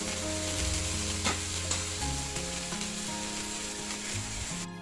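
Oil sizzles steadily in a pan as an adai made with leftover rice and millet fries, a constant close crackling hiss under soft background music.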